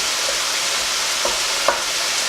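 Mince meat frying in a pan as it is broken into small pieces, a steady close sizzle with a few soft scraping knocks from the utensil.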